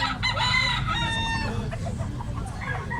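A rooster crows loudly and close by, one long drawn-out call over steady background noise and low rumble.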